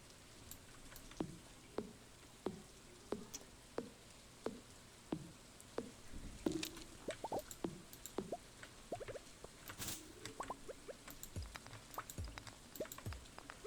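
Rain falling during a storm in Stardew Valley, the farming video game, near hot springs: a steady sequence of soft regular drip-like taps, evenly spaced at first, then denser and more scattered, fairly quiet throughout with no talking.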